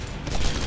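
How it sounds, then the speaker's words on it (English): A dense burst of rapid gunfire in the video game Red Faction: Guerrilla, loud and close, filling the short moment with sharp cracks. "Too much gunfire."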